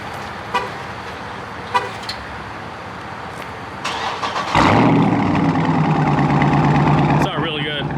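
A Chrysler 300 Scat Pack with a mid muffler delete starts up: quiet clicks and ambient noise, then a sudden loud crank and flare settling into a deep, rumbling idle close by.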